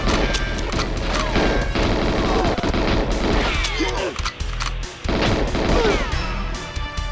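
Dense gunfire fills a GoldenEye co-op mod called Dual Eyes: rapid overlapping shots, booms and crashes burst loudly and almost without pause, with a few brief dips between volleys.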